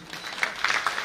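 An audience claps at a Bhagwat katha, a Hindu religious discourse held in Sangrur, Punjab. A brief, fairly soft patter of applause rises in a few quick bursts.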